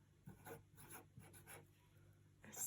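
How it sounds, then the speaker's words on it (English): A pen or pencil writing on paper during a Sunday school lesson, quiet scratchy strokes in short bursts with pauses between, close and soft. "at the top, when you've done that, you're going to write Samson,"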